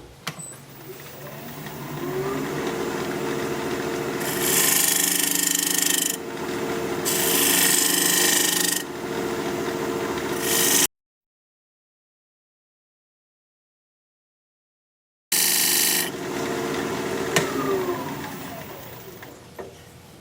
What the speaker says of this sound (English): I've just used my dovetail tool to create a recess back here, dovetail shaped recess for my jaws